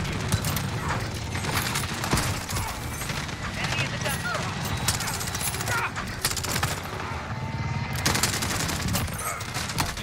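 P90 submachine gun firing in the video game Call of Duty Modern Warfare, dense rapid bursts of gunfire running almost continuously, with a loud burst near the end.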